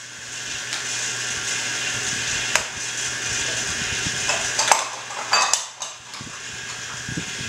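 An electric mixer runs on medium, beating coconut cake batter in a bowl: a steady close whirring hum throughout, with occasional clinks and scrapes against the bowl.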